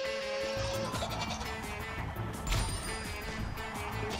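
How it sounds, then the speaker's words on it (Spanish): Goat in Plants vs Zombies Garden Warfare 2 bleats repeatedly over busy game music and effects, the calls close and fairly loud throughout. "¿Qué le pasa a esta cabra?"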